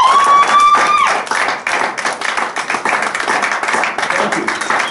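A church congregation claps for a deacon, individual hand claps rising into a lively, uneven round of applause up close, with a sustained tone and a few voices at the start before the clapping takes over.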